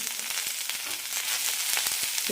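Carrot pieces and coriander leaves frying in a hot pan for carrot chutney, giving a steady close sizzle with a few soft clicks from stirring.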